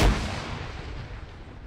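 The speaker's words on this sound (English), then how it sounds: "Grenade out." A grenade blast in Arma 3 lands as one sharp, loud explosion at the start, followed by a rumbling roll that slowly fades out, with no voices.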